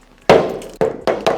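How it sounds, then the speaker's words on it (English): A hammer strikes a 40mm thick bulletproof windscreen on a Toyota Fortuner four times, each blow a sharp, loud glassy crack with a short ringing decay, spaced irregularly with no talk. "this 40mm thick windscreen is strong enough to take a punch with this hammer"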